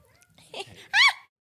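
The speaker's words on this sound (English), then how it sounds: "That was our cat, our loving cat." A young feral cat gives a short, sharp, whiny vocalization, a brief rising-falling yowl close to the microphone after some faint rustling.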